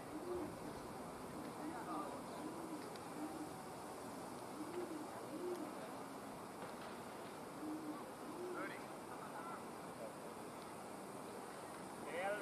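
A bird repeatedly gives soft, low hooting or cooing calls in a regular pattern, faint and distant over steady outdoor background noise at a cricket ground.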